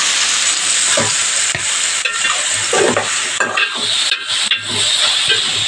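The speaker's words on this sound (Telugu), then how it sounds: "బాగా ఫ్రై అవుతుంది అట్లా వంకాయ ముక్కలు" Brinjal pieces fry in a pan, giving a loud, steady sizzle broken by repeated stirring scrapes, close and with no talk.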